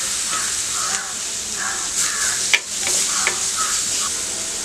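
Finely chopped tomato sizzling in oil with onion that is already browned, a steady frying hiss broken by the repeated scrape and knock of a spoon stirring the pan, with one sharper clatter partway through.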